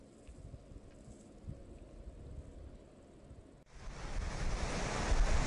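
Water babbles and rushes near Lake Lunghin. A steady outdoor wash of flowing water grows noticeably louder and closer partway through, mixed with wind noise.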